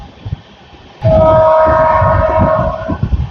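Satavahana SF Express running on a new LHB rake through the Kondapalli reserve forest area. A steady rolling rumble is broken by a single loud horn blast lasting about two seconds, then the running noise continues.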